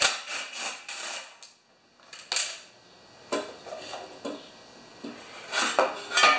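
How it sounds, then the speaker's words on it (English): Bolts come off a Briggs & Stratton mower engine with scattered metallic clinks, wrench taps and scraping, irregular and fairly close, with quiet gaps between bursts of handling. "But I'm just taking off bolts"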